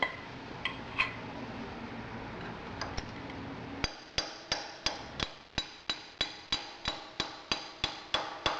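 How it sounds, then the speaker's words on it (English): A hammer taps a chisel to bend a lock washer at the front sprocket of a 2012 Triumph Bonneville motorcycle. A few scattered light clinks come first, then about fourteen crisp, evenly spaced metallic taps, close and alone. "I'm going to use my chisel, I'm going to put it in behind"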